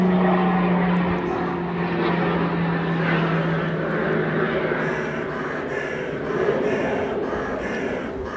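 An airplane flies overhead with a loud, steady engine drone that fills the whole stretch and swells and fades only slightly as it passes.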